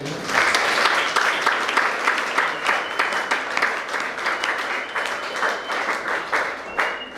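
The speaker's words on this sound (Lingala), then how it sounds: "applaudissez d'abord pour vous-même" Audience applause at a women's gathering in Kinshasa, a sustained burst of dense hand clapping from a large indoor crowd, steady and moderately loud for several seconds before tapering slightly.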